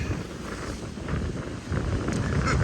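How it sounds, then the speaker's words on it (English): Strong gusts of wind on a beach as snow begins to fall buffet the microphone, producing a rumbling, uneven roar that swells louder toward the end. "I hope you guys aren't getting too annoyed with all the wind sounds"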